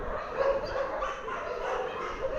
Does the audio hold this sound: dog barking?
yes